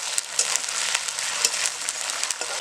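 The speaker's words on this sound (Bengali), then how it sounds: "এই তেলের উপরেই দিয়ে দিচ্ছি আদা বাটা আর কাঁচা লঙ্কা বাটা। এবার ভালো করে কষিয়ে নেব।" Ginger and green chili paste frying in hot oil, a bright crackling sizzle with sharp spitting pops and light stirring, close and steady.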